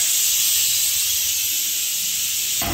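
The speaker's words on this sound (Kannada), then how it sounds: "ಇವಾಗ ತಾನೇ ಕುಕ್ಕರ್ ಕೂಗಿಸ್ದೆ" A pressure cooker vents steam while curd rice cooks for a festival offering, giving a loud, steady, close hiss that holds evenly for over two seconds and then cuts off abruptly.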